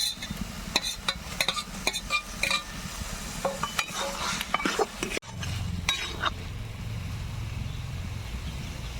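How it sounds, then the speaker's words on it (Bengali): Fried prawns go into a pan of cooked-down taro stems and are stirred, with close scraping and clinking of a spoon against the pan, a sharp thud, then low, steady sizzling, with no talk. "এবার দিয়ে দেবো ভেজে রাখা চিংড়ি"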